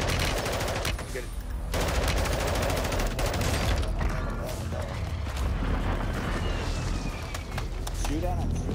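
Rapid automatic gunfire in the video game Warzone 2, long bursts of shots rattling over a steady roar, with other weapons and voices mixed in underneath.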